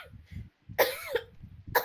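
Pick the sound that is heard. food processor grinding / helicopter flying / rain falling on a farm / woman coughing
woman coughing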